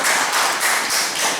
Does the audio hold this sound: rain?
no